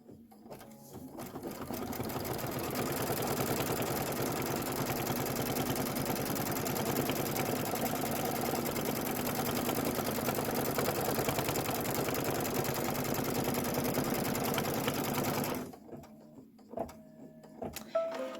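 A Kimberbell embroidery sewing machine, freshly rethreaded, stitching steadily at a fast, even pace for about fifteen seconds, close and loud, then stopping to quiet handling sounds.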